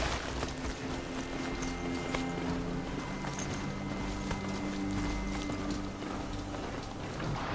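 Horse hooves clip-clop steadily in the video game Terror of the Sun, in a continuous rhythmic patter over a dense, noisy game soundscape. No one talks.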